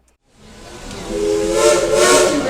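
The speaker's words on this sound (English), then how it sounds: "The whistles you just heard tell us that our engineer has received our all clear" Dollywood Express steam locomotive number 192 sounds its whistle at the depot. A hissing blast swells from quiet into a loud, steady tone close by.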